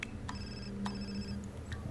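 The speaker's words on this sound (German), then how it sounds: "Telefon." A telephone in The Sims 4 rings in quick, evenly spaced electronic trills, repeating four times over a low background hum, with no talk.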